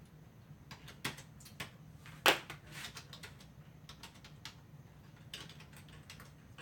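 Sparse, irregular clicks of keys being typed on a Microsoft Surface Pro 4 keyboard, close and fairly quiet, with one sharper louder tap among them.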